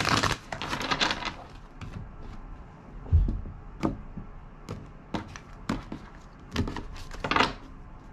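Soft riffling and tapping of tarot cards being shuffled, in short bursts with pauses between, close by and fairly quiet.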